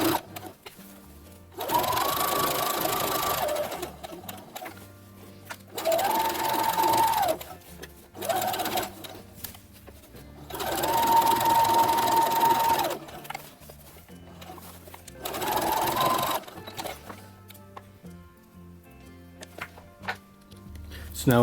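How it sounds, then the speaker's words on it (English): A sewing machine stitches the collar of a Star Wars-style jumpsuit in repeated bursts of a few seconds each, a close whirring hum separated by short pauses, with quiet handling sounds in between. "Just pick up the stitch right where we left off."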